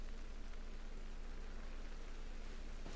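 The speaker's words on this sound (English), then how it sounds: "Of course it's raining again." Steady rain hisses as a soft, even wash of noise in a Pokémon video game, with no other sounds.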